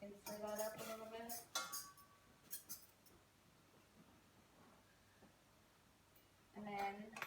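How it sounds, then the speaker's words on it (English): A utensil stirs a mixture in a bowl, producing scattered clinks and scrapes, clustered at the start and end with quieter gaps between, while a person talks over parts of it. "then we can stir that up a little bit"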